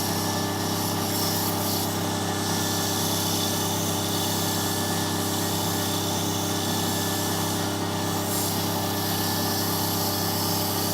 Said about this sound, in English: such a light sanding,